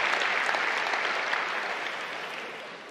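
Sustained audience applause fills a large hall at the E3 2019 press conference, a dense steady clapping that fades slightly toward the end, with no speech over it.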